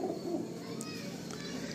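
Madrasi breed pigeons coo in a loft, low warbling calls close by over a steady background hum, with a voice speaking over them.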